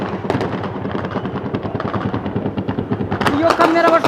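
Gunfire during fighting in Goma, rapid bursts of automatic weapon shots in close succession, loud and near, with a voice under the shots and heavier blasts near the end.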